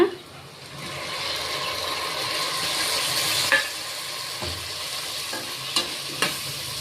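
Chopped tomatoes fry with ginger garlic paste in a pan, a close, steady sizzle punctuated by a few sharp spoon scrapes and knocks against the metal.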